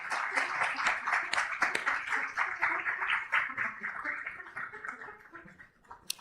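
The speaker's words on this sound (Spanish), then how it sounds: "Dame un aplauso al Señor" Church congregation clapping and cheering together in sustained, dense applause lasting several seconds, a steady rolling wash of many hands at moderate loudness that eases off just before the end.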